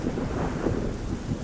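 Low, steady rumbling thunder in the Slender's Shadow Mansion video game, a continuous dull roll with no breaks and no talk over it.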